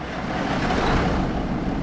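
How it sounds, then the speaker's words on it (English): A Freightliner FLB truck with a Cummins engine in American Truck Simulator gives a loud, steady low diesel rumble with broadband roar, constant and close throughout the short stretch, with no voices. "I do like the sound of that Cummins."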